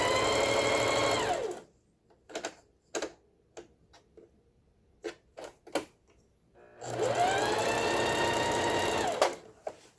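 A Singer 4423 sewing machine runs zigzag stitching in two fast, close whirring bursts, separated by a pause filled with a few sharp mechanical ticks and clicks.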